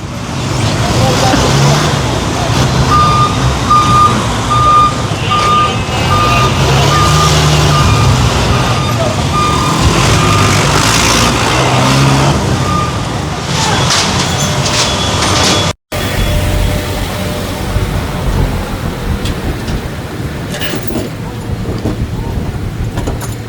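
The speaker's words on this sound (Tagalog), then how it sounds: "Mga tow truck, ikot kayo pero tumabi kayo ah." Tow trucks maneuvering on a street during a traffic violation operation, with a regular reversing beeper in the first half over loud engine rumble and traffic noise, and people talking throughout.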